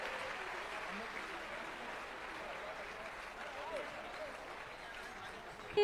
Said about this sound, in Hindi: तो जरा जोरदार तालियां संदेश जी के सम्मान में।